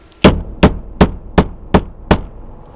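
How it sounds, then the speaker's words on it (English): A hammer taps a metal crimp connector onto the wire of a FlexWatt heat mat, six sharp, evenly spaced blows, close and loud, with no talking. "take a hammer or some blunt object and very carefully"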